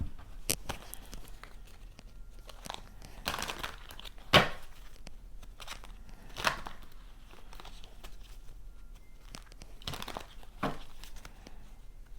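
A deck of tarot cards shuffled by hand, soft papery riffles and slaps in irregular bursts with a few sharper snaps, fairly quiet and close with no talking.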